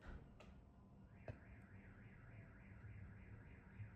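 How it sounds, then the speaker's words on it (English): A faint car alarm outside warbles steadily in a continuous rising-and-falling wail, distant and low under quiet room noise, with a couple of soft knocks nearby. "an alarm is going off too"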